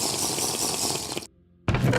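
Water in the block-building game TerraFirmaCraft, a steady running, splashing hiss that cuts out briefly into near-silence before resuming just as loudly, no voices.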